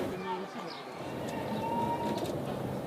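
Pigeons coo and call among the rooftops of Cairo's Zabbaleen garbage-collectors' district, a soft steady murmur of birds with people talking over it throughout.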